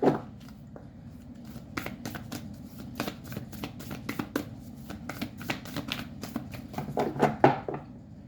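Rapid riffling and flicking of oracle cards being shuffled, a steady run of crisp papery clicks repeated over several seconds, close up, with a brief rustle at the start.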